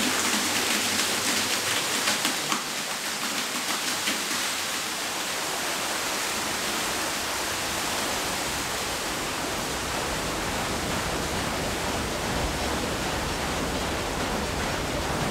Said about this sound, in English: opening up a sluice gate, allowing the water to flow through to the right place